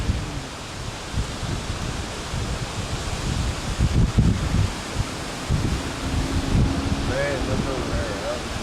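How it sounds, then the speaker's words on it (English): Gusting wind ahead of an approaching thunderstorm rustles leaves in a continuous roar that swells and eases, with wind buffeting the microphone and people talking faintly underneath. "We're fixing to get the wind."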